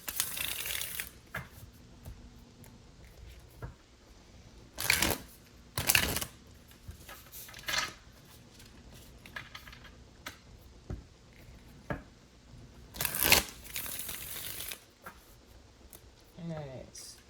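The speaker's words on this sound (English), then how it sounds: "let me go ahead and shuffle a couple times" Tarot cards are shuffled close by, with several sharp riffling bursts and softer slides and taps between them, during a love reading. The gaps between shuffles are quiet or carry faint handling noise.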